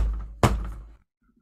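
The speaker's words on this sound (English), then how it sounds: "there's a thumping noise and a muffled cry coming from the closet" Radio drama sound effect of thumping from inside a closet: a single heavy muffled thud over low rumble, then fading to near silence.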